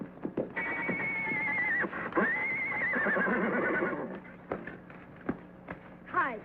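Champion, the horse, lets out a long, loud whinny that rises and falls over several seconds, followed by a few hoof thuds and snorts and a shorter neigh near the end.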